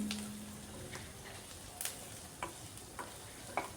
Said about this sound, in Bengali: আরও কিছুক্ষণ ভাজতে হবে, যাতে আদা পেঁয়াজ রসুনের কাঁচা গন্ধটা চলে যায়।